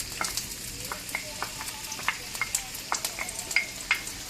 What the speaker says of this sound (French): On va ensuite incorporer les oignons émincés.